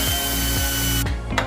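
Ratcheting socket wrench on a shock absorber bolt of a Jeep JKU with a 2.5-inch lift: steady, loud, close mechanical clicking with a couple of sharper knocks near the end.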